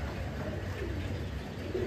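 Soft low coos from Saharanpuri highflyer pigeons murmur under a steady background hum, faint and close, with no clear pauses.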